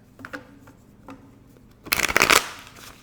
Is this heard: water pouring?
no